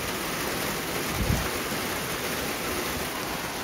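Steady rain falls on a garden beside a greenhouse, a dense, even hiss with one brief low thump partway through and no voices.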